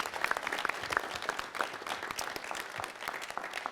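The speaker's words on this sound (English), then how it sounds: "Please give them a nice round of applause." A city council meeting audience breaks into applause, dense overlapping claps of a sizable crowd sustained at even loudness throughout, heard without speech.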